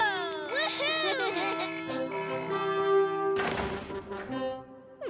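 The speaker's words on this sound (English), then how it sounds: "I'm gonna ring their doorbell." A chiming doorbell rings out in sustained, melodic tones, while lively voices chatter and exclaim over it.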